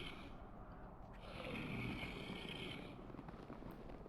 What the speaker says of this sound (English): The deepest snore that I've ever heard.